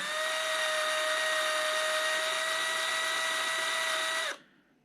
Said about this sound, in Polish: Ścinam, rozwiercam ten nit. Nit plastikowy